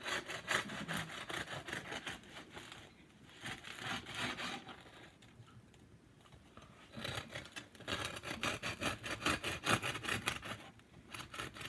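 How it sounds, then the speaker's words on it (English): A bow knife saws through a loaf of crusty Italian-style white bread baked in a cast iron pot, giving repeated rasping strokes in bursts with short pauses, close and fairly loud, with no talking. "I have my trusty bow knife,"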